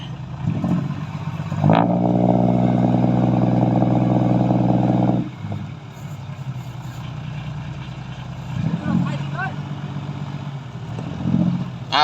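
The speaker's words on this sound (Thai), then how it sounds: "รถไถมาแล้วครับ" A tractor engine runs nearby with a steady droning tone that rises, holds for a few seconds, then drops back to a rough idle.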